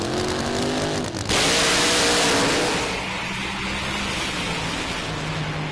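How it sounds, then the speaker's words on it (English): Methanol-powered nitro drag race car launching down the Santa Pod track, a loud harsh engine roar that surges sharply after a second, then fades into a sustained drone as the car pulls away, with no speech. "So Joe Bond in the far lane with the methanol-powered car."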